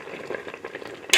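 Ghee sizzles as it is added to a pan of dried tilapia (Kenyan obambo), a soft, steady bubbling and frying hiss with a brighter burst of sizzle near the end.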